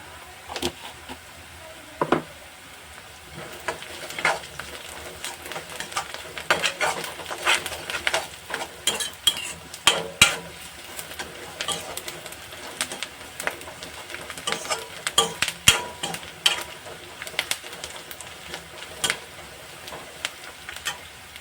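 Chillies and turmeric fry in oil while a spoon stirs them, giving a low sizzle under frequent sharp scrapes and clinks against the pan.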